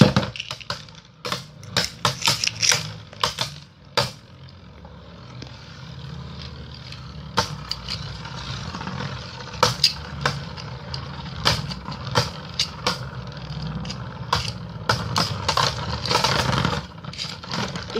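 Beyblade spinning tops Valtryek V3 and Rocktavor R2 battle in a stadium, giving off a steady whirring rattle punctuated by repeated sharp clacks and crashes as they collide, loud and close.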